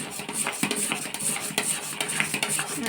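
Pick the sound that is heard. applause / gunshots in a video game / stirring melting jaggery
stirring melting jaggery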